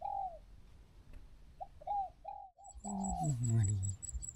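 A dove coos in a rural outdoor setting, a few soft rounded calls repeating at a moderate distance, with a brief higher chirp near the end.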